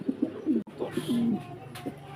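White show-quality pigeons coo close by in a few soft, low rounded calls, one drawn out longer, with light background noise and no speech.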